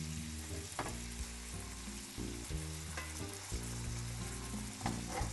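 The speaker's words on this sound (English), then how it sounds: "instead of deglazing with white wine, I'm just going to sort of add it now and let this simmer in it" Tilapia cooking in white wine in a pan over a low flame, a soft steady bubbling sizzle close by with faint clinks of a utensil.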